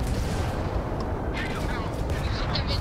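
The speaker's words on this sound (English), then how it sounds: "There's a lot of explosions out there." Explosions and turret gunfire during a space battle in the Starfield video game: dense, continuous rumbling booms and rapid bursts of fire layered over one another, loud and unbroken throughout.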